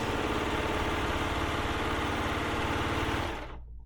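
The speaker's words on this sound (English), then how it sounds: "the cutter will cut off all this excess as I'm serging" An overlock serger runs steadily while its cutter trims excess fabric off a quilt binding, giving a dense, even mechanical whir with fast stitching rhythm that cuts off near the end.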